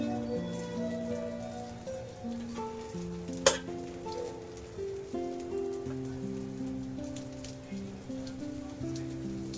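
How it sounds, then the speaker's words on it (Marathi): Kingfish (surmai) pieces frying in hot oil, a steady, soft sizzle and crackle throughout with one sharp pop midway, no talking. "या बाजूने फ्राय करून घ्यायचंय"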